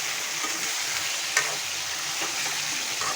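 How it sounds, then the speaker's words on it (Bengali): Taro and potato pieces are tipped into a pan of well-fried spice paste, raising a loud, steady sizzle with a faint clink of a utensil partway through. "এবার আমি তরকারিগুলো ঢেলে দেব।"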